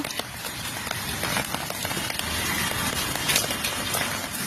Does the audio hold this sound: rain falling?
yes